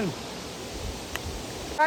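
The Dhareda waterfall gives a steady, dense roar of falling water close by, even and continuous, with a short rustle and knock at the very end.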